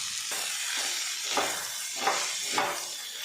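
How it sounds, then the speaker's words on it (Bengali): Chopped cabbage with dal and spices sizzles in a pan, a steady frying hiss with a few soft stirring scrapes. It sounds close and moderately quiet, with no one talking. "বাঁধাকপির সাথে ডালটা আরও কিছুক্ষণ কষিয়ে নেব"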